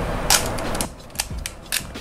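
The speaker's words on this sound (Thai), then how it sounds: "กล้องไลก้าล็อตผลิตแรกๆอ่ะการขึ้นชัตเตอร์เขาอ่ะเขาจะเป็นดับเบิลสโตร์ก็คือต้องขึ้น2ครั้ง" Double-stroke shutter winding on a first-batch 1957 Leica M3 Olive camera: sharp close mechanical clicks and ratcheting, a burst of winding followed by several separate clicks, loud and alone.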